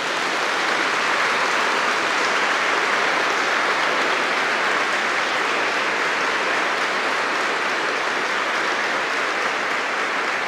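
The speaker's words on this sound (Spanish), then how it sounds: "Un aplauso para el Papa." A large crowd applauds for the Pope, a steady dense wash of clapping that holds at even loudness for the whole stretch, with no voices above it.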